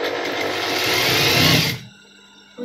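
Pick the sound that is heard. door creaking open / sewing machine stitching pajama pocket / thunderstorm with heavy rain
sewing machine stitching pajama pocket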